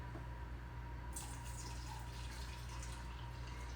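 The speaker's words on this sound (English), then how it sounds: "then you're gonna pour your coffee." Coffee poured into a cup in a home kitchen at breakfast, a steady liquid splash and trickle over a constant low hum, with no voices.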